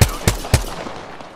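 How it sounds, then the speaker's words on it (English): Three sharp gunshots from an enemy team in the battle royale game Apex Legends crack out in quick, evenly spaced succession, loud and close, then fade into a short echoing tail. "You guys are getting shot by another team in the back."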